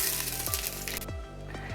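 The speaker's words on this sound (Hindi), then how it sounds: "ये आधा मिनट हमने फ्राई करना है।" Whole cloves, black cardamom and cinnamon sizzle steadily in hot oil, a close continuous crackle with a few soft clinks of spices settling in the pan, no voices.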